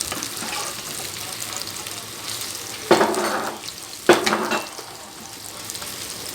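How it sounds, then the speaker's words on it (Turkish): Steady sizzling of potatoes frying in hot oil, with two sharp clatters of a utensil stirring the pan partway through; no voices. "Çay kaynıyor burada, patates kızarıyor."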